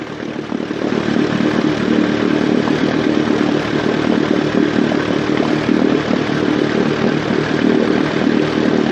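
Cleaning the flywheel from a 1956 Johnson 15 hp outboard motor produces a loud, continuous, motor-driven buzz and grinding drone that holds steady for the whole stretch, close up and with no talk.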